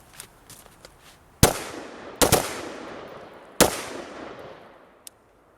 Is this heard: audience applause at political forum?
no